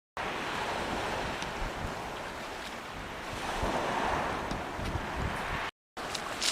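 Wind gusting across an open beach in Suffolk during shore fishing, a steady broadband rush mixed with surf wash, fairly faint and continuous with microphone buffeting and a brief dropout near the end.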